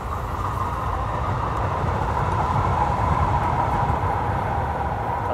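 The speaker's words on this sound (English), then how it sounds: "That's the metro, the train going past." A metro train going past near a backyard beehive, a steady low rumble and rolling rail noise that holds evenly throughout, moderately close, with no talk.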